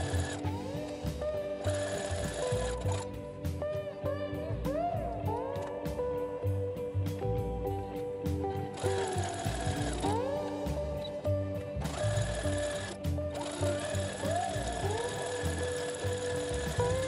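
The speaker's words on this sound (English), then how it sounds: "Now I'm just going to do a stitch along the edge just to lock everything in." An electric sewing machine runs steadily, stitching along the edge of a leather bandolier with a fast continuous mechanical whir and needle chatter, briefly pausing and restarting, under a loud background of music.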